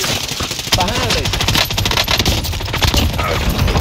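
Heavy automatic gunfire in Call of Duty Warzone, rapid dense bursts of shots cracking continuously and loudly close by, with faint background game noise.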